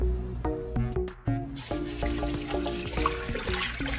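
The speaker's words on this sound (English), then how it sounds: "Slowly pour the water in, and just as a side note, the water is a lukewarm water." Lukewarm water is poured slowly into the hopper of a C706 machine, a close trickling and splashing stream that grows fuller partway through, with no voices.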